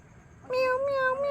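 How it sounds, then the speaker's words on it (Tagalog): A single clear cat meow from under a car in the dark, close and fairly loud, following a brief moment of quiet. "Meow, meow, meow."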